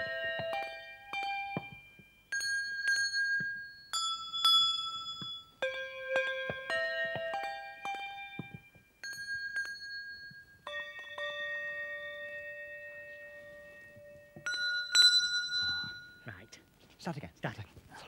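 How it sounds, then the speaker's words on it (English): A team of bell ringers plays a tune on tuned handbells at a display, the clear ringing tones following one another in a steady melodic run and fading between strikes. The playing is fairly quiet and breaks off near the end. "let's go over to a special display by the world-famous Birkenhead bell ringers"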